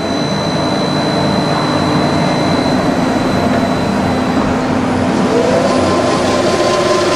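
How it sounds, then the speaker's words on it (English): Cincinnati 750-20 VerciPower three-axis CNC mill, its 50 horsepower AC variable-speed spindle motor running: a loud, steady, close mechanical whine and hum with a sustained tone that holds throughout, without speech. "I told you it's a 50 horsepower motor, AC variable speed. It just sings."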